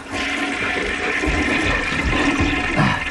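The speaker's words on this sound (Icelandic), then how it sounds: "gleymt að sturta niður maður." A toilet flushes in a steady, loud rush of water that fills the whole stretch without a break, with no voices over it.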